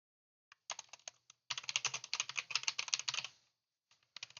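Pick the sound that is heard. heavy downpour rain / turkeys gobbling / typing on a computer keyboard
typing on a computer keyboard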